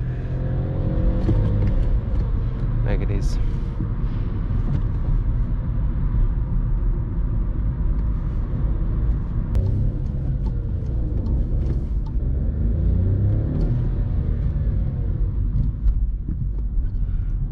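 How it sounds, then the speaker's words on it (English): A 60-horsepower car engine revs hard through a downshift, a loud, steady low rumble filling the whole stretch with rising and falling revs, close up, with a brief spoken phrase near the start. "I'm making it look like more powerful car by doing hard downshift"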